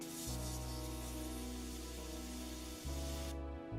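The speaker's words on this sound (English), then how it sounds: "it actually pushes the air back down the bottle, mixes your paint around" An airbrush on a bottle-fed paint setup back-flushes air into the bottle, giving a steady hissing spray with low tonal humming, a brief break near the end, then resuming before cutting off.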